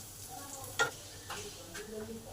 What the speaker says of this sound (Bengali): রসুনটাকে একবারে লাল লাল করে ভেজে নেব।